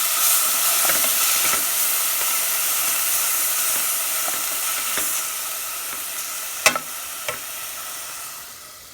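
Grated bottle gourd frying in ghee in a pan where dry fruit was roasted first, giving a steady sizzle and hiss with a few stirring clinks and scrapes near the end.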